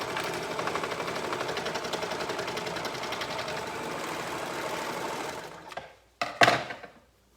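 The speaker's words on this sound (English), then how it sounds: "now I'm sewing up one leg, and we'll sew down the other." Up close, a sewing machine runs a fast, continuous rattling hum while sewing the inseam of women's pajama shorts, then slows and finishes with a couple of short bursts before stopping.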